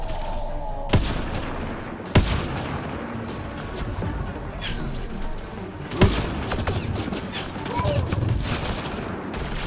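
Gunfire in the sci-fi shooter game Mass Effect Andromeda, with a few sharp loud shots including a headshot, scattered over a busy rumbling battle bed and faint background voices.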